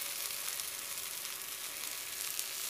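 Masala idlis fry golden brown in a pan, a soft, steady hiss of sizzling oil throughout with faint crackles, close and quiet, without speech.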